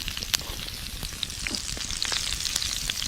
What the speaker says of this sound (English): When you're cooking steak medium rare, it's important to let it rest after cooking.